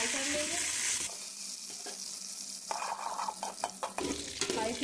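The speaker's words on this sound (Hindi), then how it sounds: "ये मैंने ऑयल जो है गर्म कर लिया, इसमें हम थोड़े से आलू फ्राई कर लेंगे" Potatoes frying in hot oil over high flame, a bright sizzle broken by spatula scrapes and stirring clatter against the pan, close and fairly quiet.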